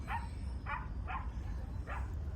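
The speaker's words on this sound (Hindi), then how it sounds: "ये देखो सारे अपने कुत्ते लेके अंदर आए हैं" Several dogs at a crowded park gathering in Long Island City, New York, with four short barks or yips rising over steady outdoor crowd noise.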